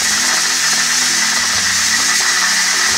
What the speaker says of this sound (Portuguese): já saiu toda a pressão aqui da panela